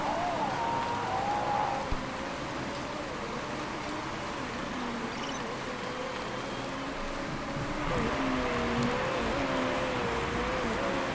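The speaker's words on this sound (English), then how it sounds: "And it starts raining." Rain patters on the #25 SH Racing Team car mid-race while a steady engine drone runs underneath, with intermittent voices over the top.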